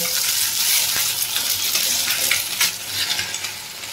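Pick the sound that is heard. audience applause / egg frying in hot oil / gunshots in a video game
egg frying in hot oil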